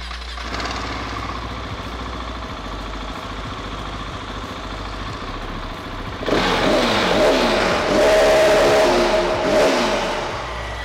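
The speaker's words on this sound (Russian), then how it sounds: "Давайте заведем мотоциклы и послушаем, как работает сток, немножко погазуем," A GASGAS 700 SM motorcycle on its stock exhaust idles steadily at close range, then the single-cylinder engine is blipped through several sharp revs that rise and fall before settling.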